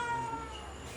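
A trapped kitten gives a single faint, thin meow from inside a cramped space, short and alone against a quiet background.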